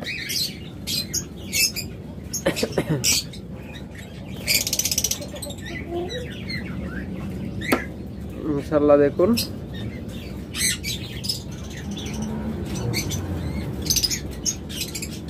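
Caged lovebirds and cockatiels in breeding season chirp and squawk in sharp, scattered bursts, some close and loud, while someone talks over the chatter.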